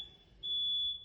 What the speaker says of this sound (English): my smoke alarm's going off